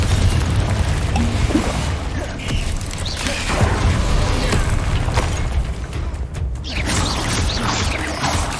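Confringo fire spells explode during combat in Hogwarts Legacy on PS5, with loud booming blasts and crackling layered over a dense, constant battle din and game music, with no clear speech.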